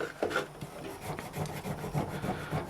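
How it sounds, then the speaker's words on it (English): Quiet rhythmic rubbing strokes as a coating is polished off a Baby Yoda figure, close and soft, with repeated scratchy passes. "You have to give it a good bit of polish, because I have put a bit of a coating on it, so you have to give it a good rub."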